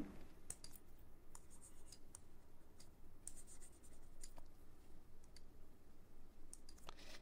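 A chalk or marker scratches and taps on a classroom board during a chemistry lesson, with erasing mixed in. The strokes are quiet and come in short, irregular bursts with pauses between them.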